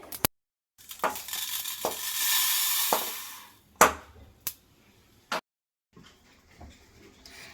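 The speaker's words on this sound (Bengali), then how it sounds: "এবার এটা আমি ঢেলে রাখছি থালার মধ্যে।" Dry-roasted whole mustard seeds pour from a dry pan onto a plate while making raw mango pickle: a steady, close rattling hiss lasting about two seconds, framed by sharp clinks and scrapes of the pan.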